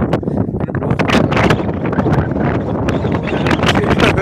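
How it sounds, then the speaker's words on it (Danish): Strong coastal wind at Blåvand buffets the microphone, making a loud continuous roar with ragged gusting bursts and crackles and no talk. "Jeg hører mig alt det blæsten, håber jeg i hvert fald, at I lige kan høre mig"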